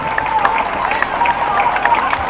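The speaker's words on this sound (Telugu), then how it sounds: "చప్పట్లు గట్టిగా కొట్టాలండి." A school audience claps together at an anniversary celebration, a dense and fairly loud patter of many hands that keeps going evenly with no clear breaks.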